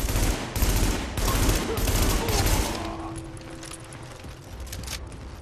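Rapid gunfire bursts in The Division as headshots land. Loud repeated shots fill the first half, then fade to a quieter tail with a lingering tone and faint distant pops.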